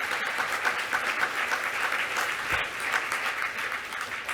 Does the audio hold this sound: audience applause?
yes